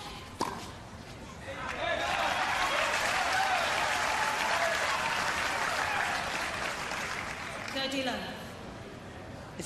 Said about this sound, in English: It's funny, the crowd's getting more excited than Brengle is.